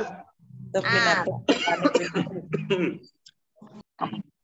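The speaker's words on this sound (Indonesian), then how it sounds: "saya batuk dari hari terakhir PPL sampai dengan saat ini" A voice talks for a few seconds, then two short, sharp coughs follow close by after a brief pause.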